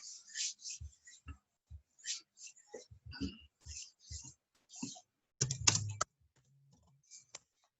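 Typing on a computer keyboard, close and fairly quiet: short clusters of key clicks with gaps, then a louder clatter near the end before falling silent.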